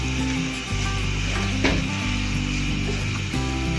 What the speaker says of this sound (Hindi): इसको भूनना है हमने अच्छे से